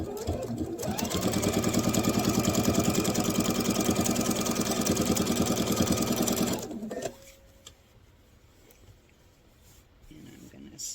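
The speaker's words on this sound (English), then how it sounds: "I'm going to sew this all the way down until I get down to my corner" A sewing machine runs steadily stitching a table runner down to a corner, a loud continuous motor whir for about six seconds before stopping, leaving quiet room noise.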